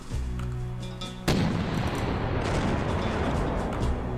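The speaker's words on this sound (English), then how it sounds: "Oh my god, it's the cannon." A cannon fires in a video game, one sudden heavy boom breaking into a low hum, followed by a long rumbling, crackling tail of blasts and debris that stays loud to the end.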